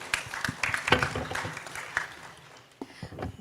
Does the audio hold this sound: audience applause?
yes